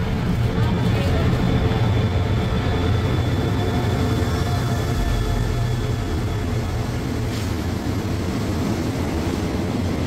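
A heavy, latest-model Thai railway diesel locomotive hauling an express train rumbles past steadily at close range, a continuous loud engine drone with rattling wheels, and no talking over it.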